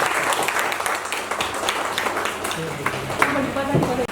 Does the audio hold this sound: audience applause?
yes